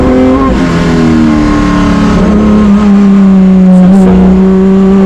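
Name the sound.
vintage racing car engine revving on track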